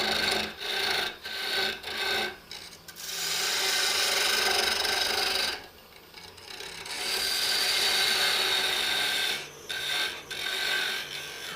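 Woodturning on a lathe, undercutting a wooden corzetti pasta press: a steady rasping, scraping tool-on-wood sound in long continuous passes broken by short pauses, close and fairly loud with no talk.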